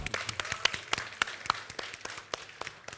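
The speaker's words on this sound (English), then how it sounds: "Let's give her a big round of applause again" Sparse applause from a symposium audience thanking a female presenter, with scattered individual claps rather than a dense roar, fairly faint and distant in a large hall.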